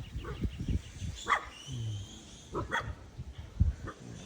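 A dog barks a few times at a moderate distance on a farm, short scattered yips over a quiet outdoor background.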